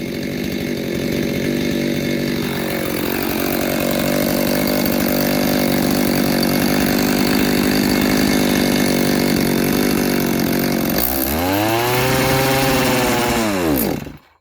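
A ported STIHL MS290 chainsaw runs loud and steady on its first start, a sustained buzzing drone that shifts pitch as the throttle changes, then revs up and down sharply near the end before cutting off.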